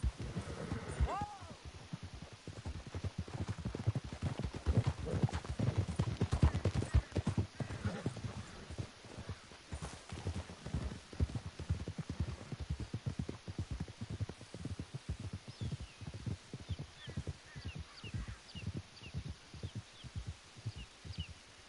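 Horses galloping across rough ground in Red Dead Redemption 2, a steady run of hoof beats that stays loud and close for the whole stretch, with a whinny near the start and voices cutting in now and then.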